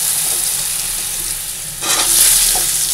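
Potatoes drop into hot oil already sizzling with bay leaf and whole cumin, giving a close, steady frying hiss that surges louder as the pieces go in and keeps crackling, with no talk.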